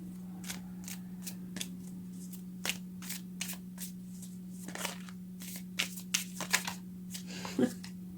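Tarot cards are shuffled by hand in a rapid series of crisp riffles and flicks, close and fairly soft, over a low steady hum.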